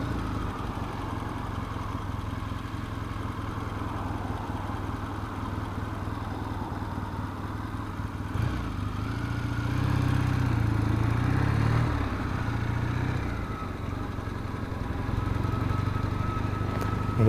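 A motorcycle with freshly laced stainless-spoked wheels and new bearings runs steadily nearby, a low engine rumble that swells louder for a few seconds midway before settling back to a steady idle.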